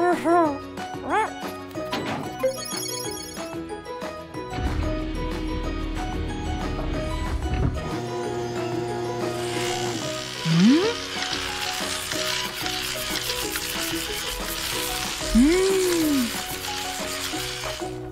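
Animated car wash brushes scrub a cartoon car with a dense rushing swish, set among playful music, squeaky sound effects and cartoon voices talking.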